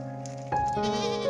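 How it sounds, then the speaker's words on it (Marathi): Goats on a Konkan farm near Roha, Raigad bleat in a short burst, a steady tonal call followed by a louder, wavering bleat, close to the recorder with no talk over it. "तर बकरी आले"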